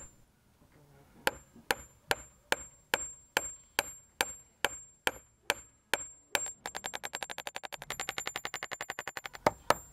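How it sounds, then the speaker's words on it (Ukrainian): Hammer blows flattening stripped copper wire, a loud steady series of sharp metallic strikes about one every half second, then quickening into a rapid run of lighter taps. "Молотком розплескаємо."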